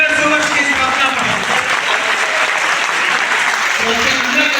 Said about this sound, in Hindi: उस संस्थान के दोस्तों तालियां बजा दीजिए